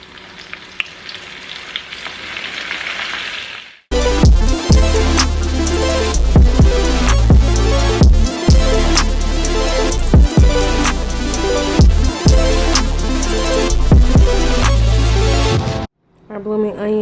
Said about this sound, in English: just drop it in the fryer